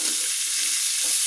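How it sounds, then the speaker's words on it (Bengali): Chopped onions sizzle in hot oil in a pan, a continuous bright hiss holding steady from start to finish with no talk. "আমি পেঁয়াজটা একটু ভেজে নিচ্ছি।"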